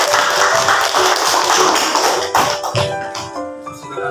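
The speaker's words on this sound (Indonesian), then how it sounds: "beri tepuk tangan kepada kelompok Bacillus" Students in a classroom clap for a presenting group in a brisk, loud burst of many hands nearby, thinning out and fading toward the end as the clapping dies down.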